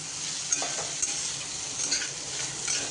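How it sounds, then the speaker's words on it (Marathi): Okra is stir-fried in oil over a fully raised gas flame, a steady bright sizzle broken by several light knocks and scrapes of a spoon against the pan. "आणि छान परतून घेऊयात गॅसची फ्लेम आता मी पूर्ण मोठी केलेली आहे"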